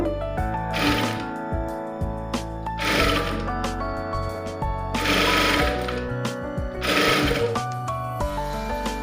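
Sewing machine stitching cloth piping in short bursts, its motor whirring loudly in four separate runs with brief pauses between them, close and alone.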